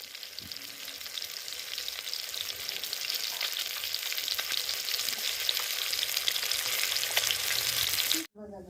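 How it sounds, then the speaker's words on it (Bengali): Fish sizzles and fries in a pan of hot oil for lunch, a steady close crackling hiss that runs unbroken, with occasional stirring, then cuts off abruptly near the end. "এদিকে আমাদের দুপুরে রান্না বান্না হচ্ছে, যে মাছ ভাজা হচ্ছে"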